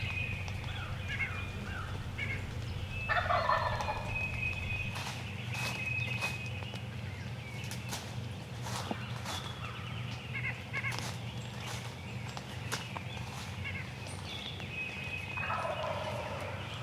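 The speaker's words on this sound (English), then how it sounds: "Man, I like the sound of that bird over there." A wild turkey gobbler in late season on wet, greened-up public land, gobbling repeatedly from a distance in several bursts, with rustling footsteps and sharp clicks close by.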